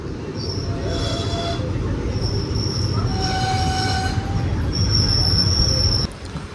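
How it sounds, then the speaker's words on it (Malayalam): An express train rolls into a station, its wheels squealing in loud, high sustained tones over a heavy continuous rumble of rail cars, near and steady throughout. "പാനീറിൽ നിന്ന് യശ്വന്ത്പൂരിലേക്ക് വരുന്ന എക്സ്പ്രസ് ആണ് ഇത്"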